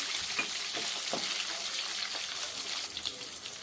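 Green chilies and curry leaves fry in a pan with a continuous close hiss, punctuated by occasional soft pops and stirring scrapes.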